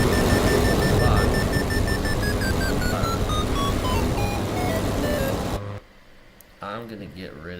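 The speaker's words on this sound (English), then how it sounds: "I'm gonna get rid of that Vario sound in the paramotor." Variometer beeping from a paramotor in the Glider Sim flight game: a steady run of short electronic tones stepping downward in pitch over a loud wind and engine-like roar, cutting off abruptly near the end before a voice speaks.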